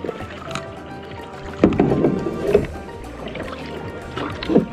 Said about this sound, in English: Out here in the ocean of Cuba. You know, I'm not really a big fan of kayaking.